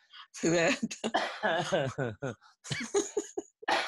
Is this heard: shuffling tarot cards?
no